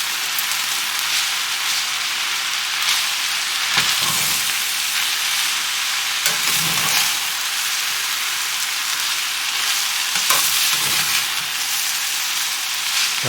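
Yakisoba sauce stirred into noodles and pork frying in a hot pan, a loud continuous hissing sizzle swelling briefly with each stir.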